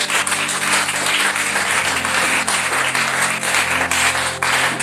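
A church congregation applauding, steady dense clapping that holds loud and continuous throughout with no gaps.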